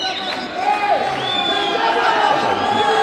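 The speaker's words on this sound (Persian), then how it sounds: "قسمی که میبینید همهشون تشویق میکنن با پرچما و با پوسترها و با گل و با اسپری" A lively crowd cheers and whoops to welcome Afghanistan's under-17 futsal team, with overlapping shouts, whistles and chatter rising and falling continuously at close range, some voices high like children.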